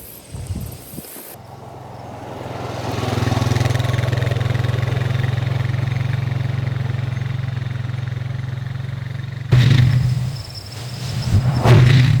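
A tractor engine idles with a steady low rumble, close by, revving briefly near the end.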